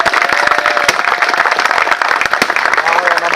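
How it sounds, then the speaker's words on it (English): Dense applause from an audience greeting the CEO at a school club launch, sharp claps rapid and continuous throughout, close and loud with a few louder individual claps. "A round of applause to the CEO"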